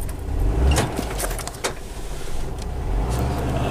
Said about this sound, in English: It's that beautiful VW engine sound.